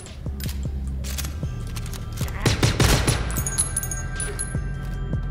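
An enemy fires a gun in the video game Sulfur. Sharp, close shots crack out in a rapid burst that peaks in the middle and rings against a steady low background hum.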